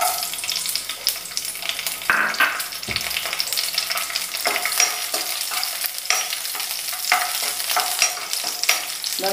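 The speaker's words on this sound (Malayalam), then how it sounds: "ഇപ്പോ നെയ്യ് നന്നായി ചൂടായി വന്നിട്ടുണ്ട് ഞാൻ എടുത്തു വെച്ച അണ്ടിപ്പരിപ്പും കിസ്മിസും ഒന്ന് വറുത്തെടുക്കുകയാണ്" Cashews and raisins fry in hot ghee with a constant bright sizzle and frequent clinks and scrapes of stirring, close and fairly loud throughout, no voices.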